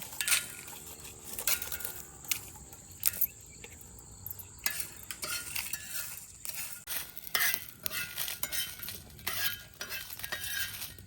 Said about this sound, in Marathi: आता भुजून घेतो मिरच्या